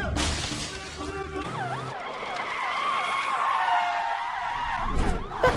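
A car arrives in a scene from an Indian action film: tyres screech and skid loudly with swooping squeals, glass shatters and crashes, and a roaring engine sounds under dramatic film audio.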